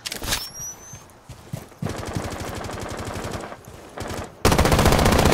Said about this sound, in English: Shoot straight and you'll get them.